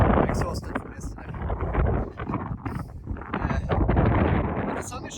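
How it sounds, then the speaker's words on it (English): Gusty wind buffets the microphone in heavy rumbling surges, loud and uneven, while someone talks underneath, on a hike in Sweden. "But still quite windy, as you probably hear."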